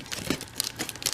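Dull scissors cutting open Amazon paper packaging, a few crinkling snips and rustles of paper, close and fairly quiet with no talking.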